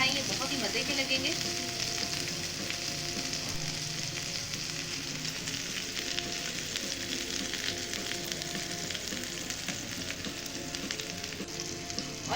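Chicken seekh kababs shallow frying in oil in a pan, with a steady, dense sizzle and crackle throughout and no one talking.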